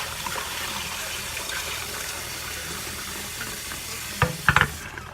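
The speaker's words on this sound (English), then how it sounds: "Cold running water." Cold tap water runs steadily over pinto beans in a bowl, a continuous close rush, with a short burst of clattering and splashing near the end.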